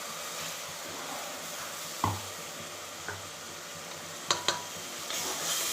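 Ground masala of ginger, garlic and coconut sautéing steadily in a pan for Kerala kadala curry, a soft continuous sizzle with a few sharp stirring scrapes.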